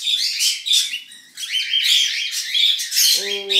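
Baby canaries, the chicks of a cinnamon pearl pair, chirp constantly from their nest, making high, thin, overlapping cheeps that are loud and close, with a brief lower buzzy call near the end.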